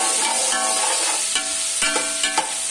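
Onion and garlic sizzle and fry in a hot pan for a Dhaba-style matar aloo curry, a steady close hiss with a few brief stirring scrapes and no voices.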